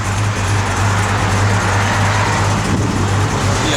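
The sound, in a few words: 1972 Chevrolet Camaro Z28 blower motor running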